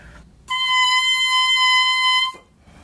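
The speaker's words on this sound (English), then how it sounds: "When we play the reed without the oboe, it sounds like this." An oboe reed blown on its own, without the instrument, gives one loud, steady, buzzy squawk of nearly two seconds that starts and stops abruptly, with quiet room sound on either side.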